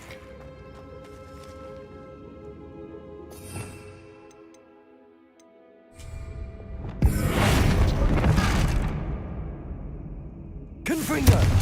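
Explosive Bombarda and Confringo spells in Hogwarts Legacy land as loud booming bursts with crackling, rushing debris noise, set against a quieter ticking musical bed, the heaviest blast arriving in the second half and another sharp hit at the end.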